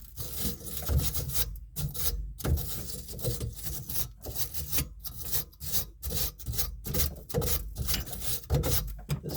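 A makeshift scrubber rasps back and forth over gunky sink plumbing threads in a bathroom, a close, rhythmic rubbing scrape repeated in quick strokes with brief pauses between them.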